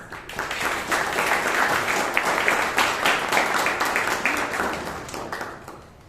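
A large audience at a Bangalore Toastmasters meeting bursts into warm applause to welcome guests, the clapping swelling quickly, holding strong with some sharper individual claps, then tapering off near the end.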